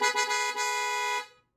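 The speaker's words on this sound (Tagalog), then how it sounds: "Ito yung loud horn." Aftermarket loud horn on a 2024 Yamaha Aerox v2 scooter blares in one steady, harmonically rich blast of about 1.2 seconds, with a few brief stutters at the start before holding and cutting off cleanly.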